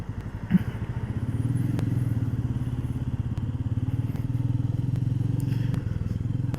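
Royal Enfield Meteor motorcycle cruising along country roads, its steady thumping engine drone continuous and close throughout, with a brief knock near the start.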